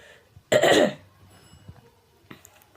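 One harsh, loud cough bursts out close by, followed by quiet breathing and faint small sounds, with no speech.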